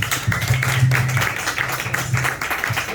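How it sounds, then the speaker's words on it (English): An audience at a live comedy show claps in scattered, uneven bursts, moderately loud and close, with a voice briefly heard over the applause. "Clap, clap, clap."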